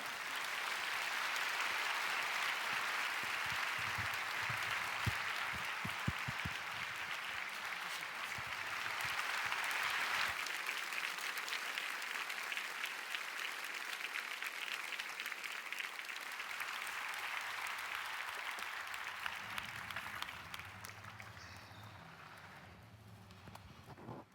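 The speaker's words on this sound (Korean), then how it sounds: "강사님 나오실 때 힘찬 박수로 환영하며 맞이하겠습니다" A church congregation at an evening prayer meeting gives the arriving speaker a long, vigorous round of applause, a dense, steady clatter of many hands that continues at length before thinning out toward the end.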